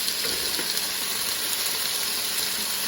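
Chorizo and potatoes sizzle steadily in a hot pan, a dense, loud, close crackling hiss that continues evenly throughout with no talk.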